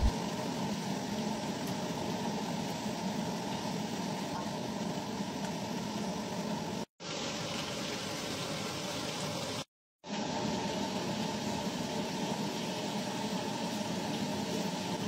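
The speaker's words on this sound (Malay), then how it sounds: "Kita masukkan terus ubi kentang. Masak sekali dengan bahan tumis ni bagi dia empuk perlahan-lahan." Potatoes cooking in a pan with sautéed spice paste give off a steady, soft sizzle and hiss that runs almost unbroken, with two brief silent gaps.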